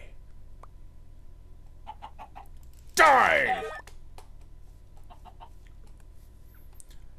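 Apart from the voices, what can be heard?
chicken clucking in Minecraft Hexxit mod video game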